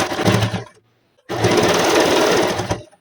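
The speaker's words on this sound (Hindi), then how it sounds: "इसे सिलते जाएंगे" A sewing machine stitches the waistband of a net petticoat in two loud, steady mechanical runs, a short burst first, then a brief silence, then a longer continuous run.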